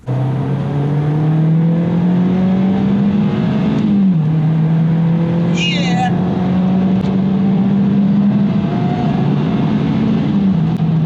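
Mazda MX-5 NC driving, a loud continuous engine drone heard from inside the car that rises steadily, dips briefly around a gear change and climbs again.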